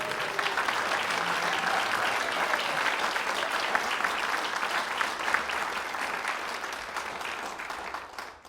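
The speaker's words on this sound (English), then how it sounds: "indulge me by giving a round of applause." Steady, dense applause from a concert audience in a lounge, loud and continuous before tapering off at the end.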